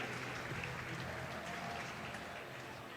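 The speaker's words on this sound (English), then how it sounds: "Je compte sur vous pour les applaudir." Steady, distant crowd applause at the CWL Paris Open Call of Duty esports event as team OpTic Gaming is introduced, a dense unbroken wash of clapping and crowd noise.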